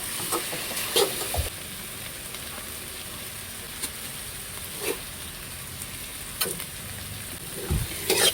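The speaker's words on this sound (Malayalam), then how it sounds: "കുറച്ച് മഞ്ഞൾപ്പൊടി ഉപ്പൊടിയും കൂടി ഇട്ട് വഴറ്റാം" Tomatoes sauté with turmeric and salt in a pan, a steady close hiss of frying broken by a few sharp clinks of a stirring spoon against the metal.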